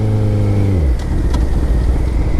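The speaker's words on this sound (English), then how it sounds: "I'm going to show you one more time, see if I can ride a little bit longer. So, there's a power wheelie." A motorcycle engine revs hard during a power wheelie, its tone dropping as the gears shift, then a loud, rough, close-up engine roar carries on steadily.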